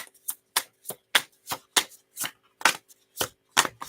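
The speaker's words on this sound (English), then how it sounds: "I'm going to shuffle." Tarot cards being shuffled by hand, a series of about a dozen crisp, evenly spaced riffling bursts, close and clear with no talking.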